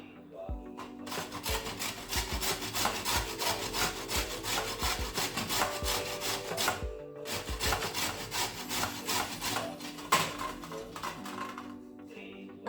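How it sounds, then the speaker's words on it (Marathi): Carrots for gajar halwa are rubbed against a hand grater, a steady rhythmic rasping scrape with strokes in quick succession, close and continuous with a brief pause midway. "आता आपण ह्याला या गाजरांना आपण किसून घेऊया"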